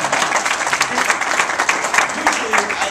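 An audience in a business talk breaks into loud, close applause, a dense sustained patter of many hands with a voice faintly underneath.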